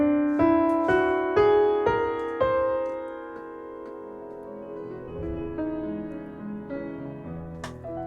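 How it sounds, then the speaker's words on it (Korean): A whole-tone scale on a piano-like instrument, every interval a whole step with no semitones: notes climb in even steps, each one ringing into the next, then settle into a sustained, shimmering blend. "모든 음의 간격을 온음으로 똑같이 만든다면 이런 소리가 납니다"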